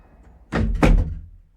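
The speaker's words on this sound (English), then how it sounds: "Right then, open the door." A door pulled open and banged shut in a drama scene, two close heavy thuds in quick succession with a brief rattle fading after.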